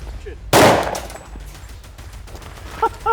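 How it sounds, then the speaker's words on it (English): A single loud, sharp gunshot from a G9 .40 S&W handgun fired into a test target, the blast fading into room noise, followed by faint ringing clinks near the end. "We have G9 40 firing through the upper thoracic cavity"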